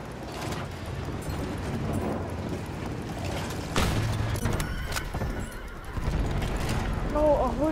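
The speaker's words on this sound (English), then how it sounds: "A horse just jumped over me." A horse in Battlefield 1 gallops with steady clip-clopping hooves amid busy game noise, then whinnies loudly near the end.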